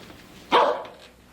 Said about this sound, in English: what was that? Rose brought a dog home from the supermarket.